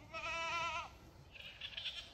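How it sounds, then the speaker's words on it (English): Goats clearing overgrown land give a loud, clear bleat near the start, followed by fainter animal sounds and rustling outdoors. "This has just been 6 goats out here working."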